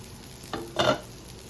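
Gutti Vankaya, a stuffed eggplant masala curry, cooking in oil in a pan, giving two short bursts of stirring and sizzle, the second louder, over a quiet steady background.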